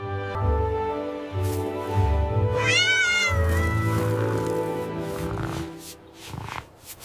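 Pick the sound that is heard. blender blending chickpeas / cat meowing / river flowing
cat meowing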